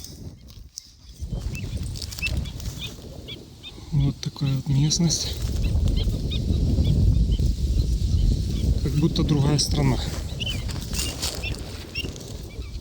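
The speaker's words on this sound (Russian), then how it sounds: "И птицы начали летать, кричать. Потревожили их." Birds take off with flapping wings and honking, goose-like calls at moderate distance on the Sea of Azov coast, while someone talks over them outdoors.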